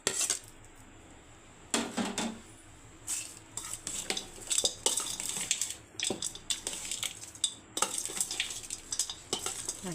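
A spoon stirs mustard-seed tempering into temple-style tamarind rice, with irregular close metallic scrapes and clinks against the vessel, coming in uneven bursts over a quiet background.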